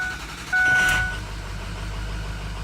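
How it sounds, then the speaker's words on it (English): Ford F250 King Ranch pickup truck engine starting: a brief crank and catch with a short electronic chime, settling into a low, steady idle heard from inside the cab. "let's go ahead and start the vehicle."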